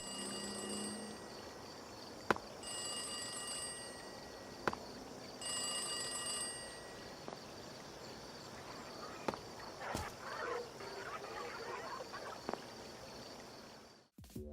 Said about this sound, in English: you can hear a telephone ringing and some creepy noises